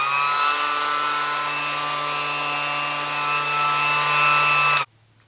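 A Ryobi One+ P411 cordless random orbit sander runs steadily in a workshop, a loud continuous whine with a low hum that holds for about five seconds before it is switched off abruptly.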